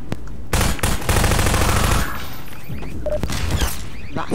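A turret's machine gun fires in Half-Life: Downfall: loud, rapid bursts of close automatic gunfire broken by short pauses, with clanking and impacts between the volleys.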